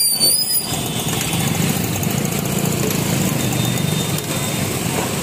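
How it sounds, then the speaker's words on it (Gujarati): A Honda Activa scooter fails to start on the road: a brief squeal, then a continuous near mechanical whirr and rattle with no catch of the engine, and no voices over it. "એક્ટિવા સ્ટાર્ટ નહીં થતું"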